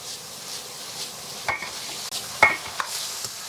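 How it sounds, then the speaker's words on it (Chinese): Pork strips stir-fry over high heat in a wok with red-oil chili bean paste: a low sizzle broken by a few sharp spatula scrapes and metallic clinks, with no talking. "反正就是全程大火爆炒"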